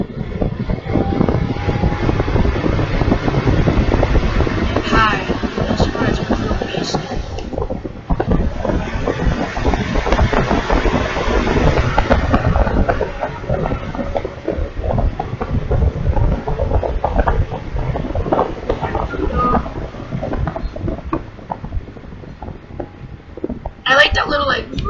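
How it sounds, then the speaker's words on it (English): A Lasko WeatherShield 20-inch box fan runs on medium with a loud, broad rushing airflow close to the microphone, steady with slight dips and a brief speed change, while someone talks over it. "Sounds like a real high velocity fan once it gets up to speed."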